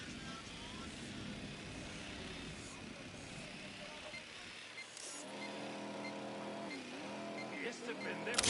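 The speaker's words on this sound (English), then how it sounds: "The drone is up." Drone flying in the tactical shooter Ghost Recon Wildlands, a steady whirring buzz that shifts and rises in pitch partway through, with voices speaking over it.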